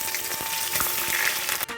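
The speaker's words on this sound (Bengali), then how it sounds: "এবার বেগুনটা ভেজে নিচ্ছি।" Eggplant frying in hot oil gives a steady, dense sizzle with a few soft pops, loud and close throughout, with no talking.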